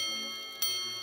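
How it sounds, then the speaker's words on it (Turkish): A minute repeater watch strikes its low hour gong once, a single close, clear metallic chime that rings on and slowly fades over a faint steady hum. "Genel olarak saatler için kalın bir gong,"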